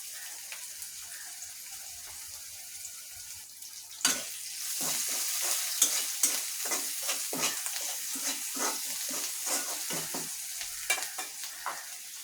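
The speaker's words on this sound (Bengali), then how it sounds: "লাউ রান্নার জন্য প্রথমে আমি কষাবো মাছটা" Fish head frying in a pan for bottle gourd curry, quiet at first, then a sudden sizzle as it hits the oil, followed by steady frying with frequent spatula scrapes and stirs, no talking.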